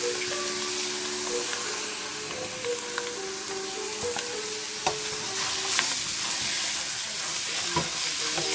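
Italian sausage frying in a pan while a wooden spatula breaks it into fine crumbles, a steady sizzle under repeated soft scraping and tapping strokes, close and fairly loud.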